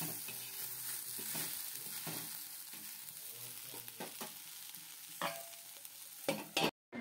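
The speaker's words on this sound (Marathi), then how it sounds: "आता ही भेंडी आहे ती आपल्याला वाफेवरती शिजून घ्यायची आहे" Okra (bhindi) fries and sizzles steadily in a pan on a home stove, a continuous close hiss with occasional stirring scrapes and soft clatters, ending with a brief louder clatter.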